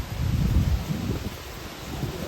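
Wind gusting on a mountain trail toward Kedarnath after rain has started, a low steady rush that swells and eases across the short stretch, with no voices.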